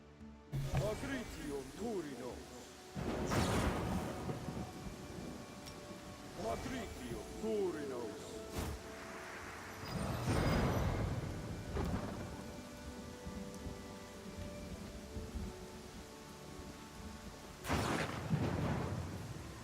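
Rolling thunder cracks and rumbles several times over steady rain in a stormy scene from the game Pathfinder: Kingmaker, with loud peaks every few seconds and talk running beneath.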